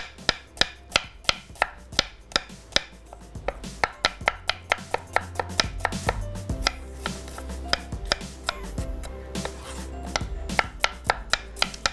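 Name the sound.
finely slicing onion with a knife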